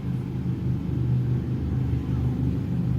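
A car engine rumbles low and steady as it decelerates off the throttle, a close continuous droning note with slight wavering and no talking.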